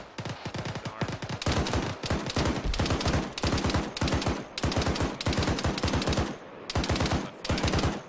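Machine gun fired by a vehicle gunner in the video game ARMA III: long, loud rapid-fire bursts of heavy automatic gunfire, separated by brief pauses, close and dominant.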